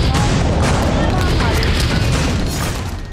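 Gunfire during street violence in Rangoon, Myanmar: a dense, loud barrage of booming reports and crackle, continuous with no clear gaps between shots.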